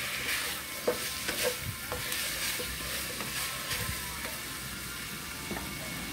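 Adobong kangkong with bay leaves being stirred in a pan, soft sizzling under repeated scraping and clacking of the utensil against the pan, close and irregular.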